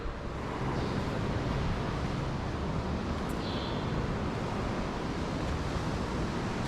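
Sea waves wash continuously near the shore in Antique, Philippines, a broad, loud roar of surf mixed with wind buffeting the microphone, with no voices.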